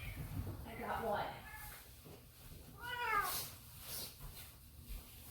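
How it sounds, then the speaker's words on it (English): A pet cat meows twice up close, a rising-falling cry followed by a longer drawn-out meow, with quieter rustling between and near the end. "Not the same cat that I was talking to, but I have one."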